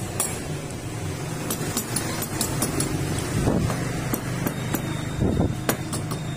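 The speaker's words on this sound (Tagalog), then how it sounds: "Tayo gagamit ng martilyo, yung rubber mallet lang" A series of dull, irregular taps from a rubber mallet striking an engine block, over steady low outdoor rumble and wind noise.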